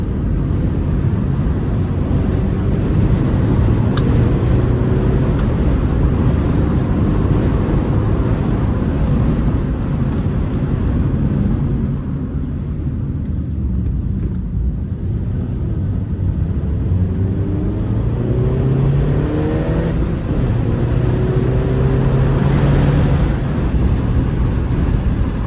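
Steady, loud car engine and road drone on a mountain pass road, with shifting engine pitch as the car climbs and accelerates, plus some wind buffeting, continuous throughout with no talk.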